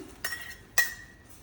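Fried cashews in ghee tipped from a small pan into boiling sabudana kheer, giving two bright metallic clinks about half a second apart, close and fairly quiet with no talking.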